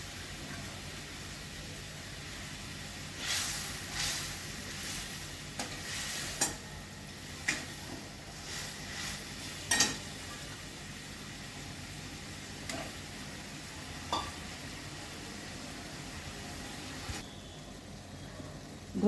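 Fried small sarpunti fish cooking in a spicy curry, a low steady sizzle with intermittent spoon scrapes and clinks against the pan, fairly quiet and close, no talking.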